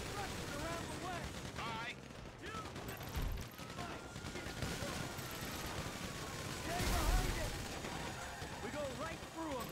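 GTA V gunfire during a heist shootout, with rapid bursts and sharp shots crackling over engine noise, heavy booms and shouted voices in the mix.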